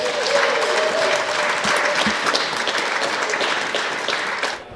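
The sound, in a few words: wedding guests applauding Joy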